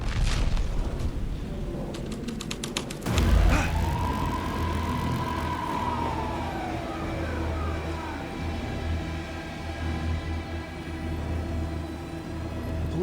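A police car siren in the video game Alan Wake 2 wails in a long rising and falling sweep, loud and close over a steady low rumble of game ambience, with brief rapid chirps in the opening seconds.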